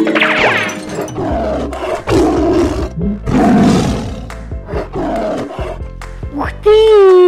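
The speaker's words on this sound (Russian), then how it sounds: "Тиня, что там у тебя рычит? Сделай тише планшет!" A tiger roars repeatedly in a kids' tablet game. Loud, growling bursts come in quick succession, and cheerful game sound effects and music fill the gaps.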